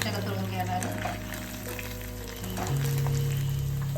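Fish fingers frying in hot oil give a steady broadband sizzle with a low background hum, continuing evenly throughout without talk over it.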